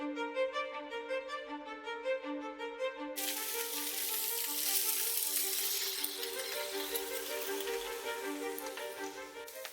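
Thin salmon fillet frying in a pan, with a steady broadband sizzle that starts abruptly and continues under light background music.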